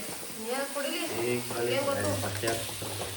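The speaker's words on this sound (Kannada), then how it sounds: "ಫಸ್ಟೇ ಹಾಕಬೇಕು ಶುಂಠಿ ಬೆಳ್ಳುಳ್ಳಿ ಪೇಸ್ಟ್ ಎಣ್ಣೆಗೆ" Ginger garlic paste sizzles and fries in hot oil with a steady crackling hiss, heard under people talking throughout.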